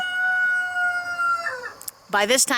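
Backyard chickens by a new coop in the morning, with a steady hum and low clucks, then a loud, close rooster crow that rises in harmonic bursts near the end.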